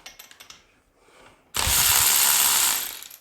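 A cheap 12 volt cordless ratchet removing a nut: a few ratcheting clicks, then a loud, steady close-up motor whir lasting over a second.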